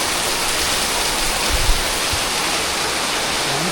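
Steady rain falls in a dense, even hiss that holds constant throughout, with a faint low thump partway through and no voices.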